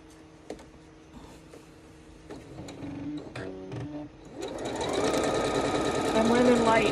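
A sewing machine stitches a Red Dazzle quilt, starting with a few scattered clicks and taps, then running steadily from about the midpoint with a loud, close, rising mechanical whir that builds toward the end.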